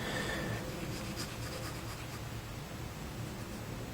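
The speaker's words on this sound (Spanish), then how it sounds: "Voy a cambiarlo ahora mismo por el lápiz 2B para comenzar a trabajar los grises." A 2B pencil scratches and rubs steadily across paper while shading grays in an art drawing, making a continuous soft hiss with no talking.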